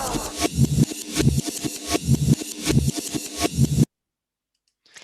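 Amen break jungle drum loop played in reverse, its hits swelling backwards into sharp cutoffs in a fast, loud rhythm that stops abruptly into silence.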